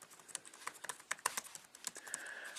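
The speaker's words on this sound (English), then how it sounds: "The keyboard is a chiclet style, and it actually is very comfortable to type on." Rapid, uneven keystrokes on the chiclet-style keyboard of a Chrome OS CR-48 notebook, a quick run of light clicks that ends in a softer, steadier patter. The typing is close and alone, with no voices.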